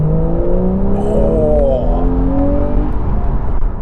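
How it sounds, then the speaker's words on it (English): Naturally aspirated Porsche 911 991 GTS flat-six accelerating from inside the car, the engine note climbing in pitch through the revs with a gear change midway, loud and continuous. "Honestly, this car makes an amazing noise."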